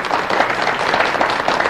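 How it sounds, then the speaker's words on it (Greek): An audience at a 1988 stage performance applauds warmly, a thick, steady patter of clapping that fills the hall. "Παρακαλώ πολύ, χειροκροτήστε με."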